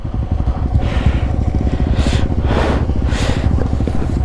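A motorcycle engine runs loud and close on a rough off-road track en route to Tawang, a steady throbbing rumble with rising bursts of throttle and rattling over the bumpy ground.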